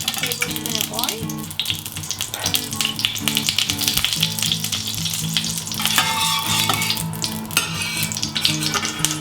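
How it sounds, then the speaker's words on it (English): About a tablespoon of oil sizzles and crackles loudly in a hot frying pan before salmon is pan-seared, a continuous close-up frying hiss with scattered pops and light utensil clatter. "We're just going to add in the oil, about a tablespoon of oil."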